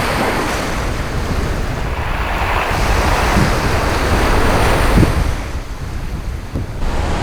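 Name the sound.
strong waves breaking on pebble beach, Jeju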